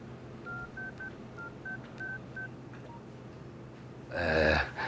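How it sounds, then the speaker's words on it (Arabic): Telephone keypad tones beep one after another in an uneven series of about eight short dialing tones, followed by a brief louder burst of noise at the end. "عمر، عشان اظبطك عايز اعمل مكالمه تليفون."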